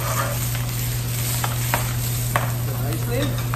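Vegetables sizzle in a hot pan during steak poivre preparation, a steady broadband frying hiss under a constant low electrical hum, with a few clicks and stirring scrapes and no voices.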